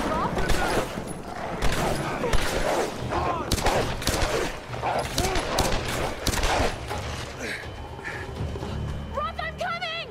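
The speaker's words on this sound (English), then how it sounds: "They're shooting at me!" Gunfire crackles in repeated sharp bursts during a Tomb Raider firefight, mixed with shouting voices and game sounds over about ten seconds, quieter toward the end.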